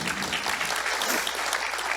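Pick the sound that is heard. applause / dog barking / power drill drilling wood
applause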